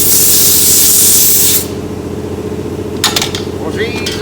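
Compressed air blasts loudly to blow dust out of a long-neglected piece of equipment, a steady hiss for about a second and a half, then low background rumble with brief rattles.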